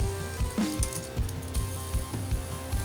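A Beyblade Burst Lucifer The End top spins on its built-in bearing, giving a steady close whir with soft, regular low knocks about every half second and no voices.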